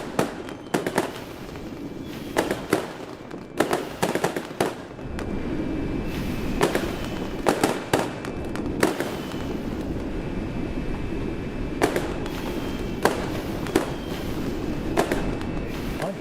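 Loud fireworks bursts in a train simulator game set on a Glasgow-area railway, sharp cracks and booms repeating irregularly over a steady rumbling train background, with no talking.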